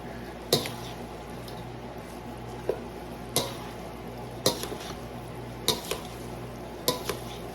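Beef Rice-a-Roni and cooked rice being stirred together in a pot, with soft squishing and a few sharp spoon-against-pot clanks at irregular intervals, close and moderately loud.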